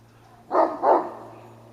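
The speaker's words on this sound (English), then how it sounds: "Now the dog's all excited. Now both are coming over and looking at me, but only one's barking." A dog outdoors gives two sharp, loud barks in quick succession, close by, then falls silent over a low steady hum.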